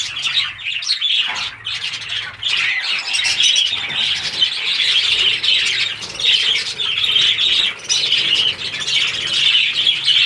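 A busy aviary of parakeets, with females just released among the males, fills the air with dense overlapping chirps, tweets and squawks, close and continuous, with brief wing flutters.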